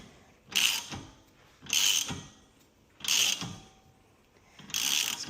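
Ratchet wrench cranking a 24 mm bolt on a Porsche Cayman 987 toe arm: four bursts of rapid clicking at close range, each roughly half a second long, separated by short quiet pauses.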